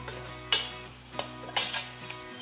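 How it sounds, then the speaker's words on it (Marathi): Masala paste sautéed with onions in a pan, a soft steady sizzle broken by scraping, clattering stirs of a spoon against the metal, heard close up with no talking. "हे छानपैकी परतून घ्यायचंय कांद्यासोबत"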